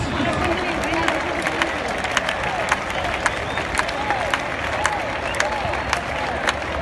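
Bullring crowd clapping in rhythm during a recortes contest with a resin-horned bull, as a performer prepares a leap over the animal: steady, regular rhythmic claps from a large outdoor crowd, with voices and a loudspeaker announcer over the top.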